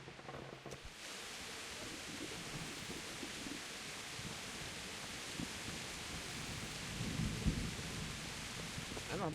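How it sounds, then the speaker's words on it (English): Rain and thunder in the medieval role-playing game Kingdom Come Deliverance, near a castle's battlements: a steady hiss of rainfall with low rumbling throughout, swelling into a louder roll of thunder near the end. "It's raining."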